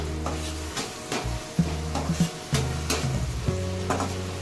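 Okra and tomato sabzi frying in a pan: a close, continuous sizzle broken by repeated scraping stirs of a spoon against the pan, in several uneven bursts, with no voices.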